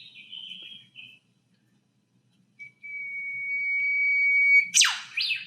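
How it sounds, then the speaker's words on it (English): A wild bird gives a thin whistled call, first a short high note, then after a pause a long rising whistle that ends in a sharp swooping zap like a charging laser beam. "It's another bird."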